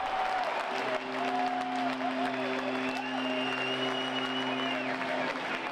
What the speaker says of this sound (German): Der Jubel umso ausgelassener.